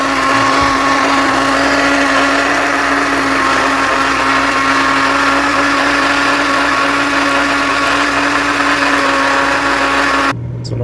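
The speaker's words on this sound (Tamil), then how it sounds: "மிக்ஸி எடுத்து அரைச்சிருக்கோம்" A mixer grinder blends onion, tomato and garlic into a paste, a loud steady whirring drone running continuously and close up before cutting off abruptly near the end.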